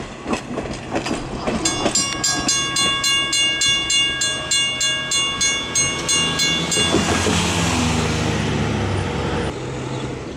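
A train nicknamed Hello Dolly rolls past loudly at close range, its wheels clicking rhythmically over rail joints, with tonal squeal lines and a steady rumble that thickens into a sustained roar as the cars go by.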